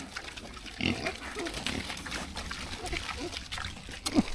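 Pigs grunt and oink at close range beside a swim pond, in short irregular bursts with some splashing of water, while a person's voice occasionally speaks over them.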